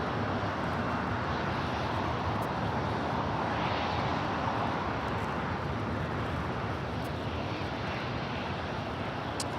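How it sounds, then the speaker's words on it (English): A United Airlines 787-10 Dreamliner takes off at LAX, its engines a loud, steady roar with broadband rumble and hiss throughout, and no voices over it. "Our next takeoff is United Airlines flight 389, heading to Tokyo Haneda in a"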